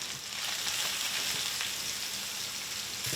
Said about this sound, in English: That right there is some blackened mahi, and we got a little bit of oil. And we're gonna cook it.